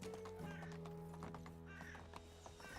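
Horse hooves clip-clopping at a steady run in the medieval game Medieval Dynasty, with a brief whinny near the start over a continuous low game music bed, no talking.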